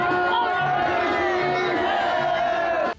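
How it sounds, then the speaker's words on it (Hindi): A crowd at a fire-walking ritual, with people running across a long strip of glowing embers, cheers and chants continuously, a dense wash of many voices with rising shouts that cuts off abruptly at the end. "इसके लिए वहां मौजूद भीड़ ने जयकारे भी लगाए"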